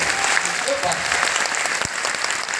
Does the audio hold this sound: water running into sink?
no